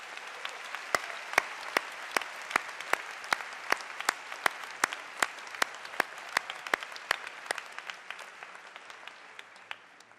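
Graduation ceremony audience applauding the graduates, a moderate wash of clapping at a distance with sharper individual claps standing out in a fairly regular beat, easing slightly toward the end.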